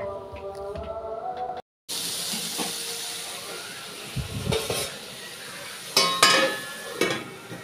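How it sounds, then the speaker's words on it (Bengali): Bitter gourd and potatoes fry in a pan with a steady sizzle and hiss, broken by a brief silent gap, then scraped and stirred in louder bursts toward the end. "চলো এখানে উচ্ছে আলু ভাজা করছি।"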